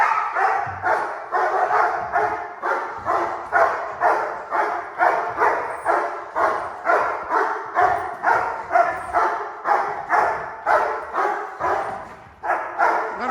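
A young dog of about a year barks repeatedly during K9 bite training, loud close barks in a steady, regular rhythm lasting throughout, with brief whines between some bursts.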